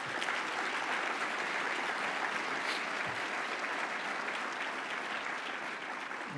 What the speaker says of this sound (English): Let's give that system a round of applause.